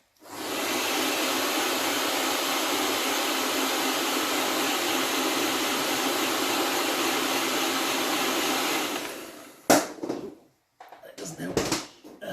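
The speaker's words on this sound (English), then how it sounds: "Have a quick blast of the old hairdryer." An old hair dryer blows on a painted miniature in a long, steady, loud whoosh for about nine seconds, then cuts off and is followed by a few handling knocks and clatters.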